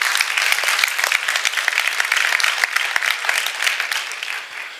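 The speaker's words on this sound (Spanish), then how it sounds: "Da un aplauso fuerte si se lo vas a dar." A church congregation bursts into loud, close, vigorous applause with sharp individual claps throughout, holding strong for several seconds before easing slightly at the end.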